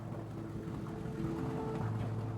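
A low, steady engine drone of a ferry, constant and fairly quiet, with a faint hum running underneath and no voices.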